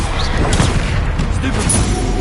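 Confringo and Bombarda spell blasts erupt during a Hogwarts Legacy video game battle, a dense, continuous barrage of loud cracking impacts with a voice mixed into the clamor.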